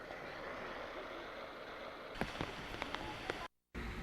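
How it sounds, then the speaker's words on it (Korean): Steady rain falling outdoors at a cooperative farm in Sunchon on a very overcast morning, a broad even hiss with a few sharp drop taps and a brief dropout near the end. "8시경부터는 이렇게 비가 내리기 시작했습니다."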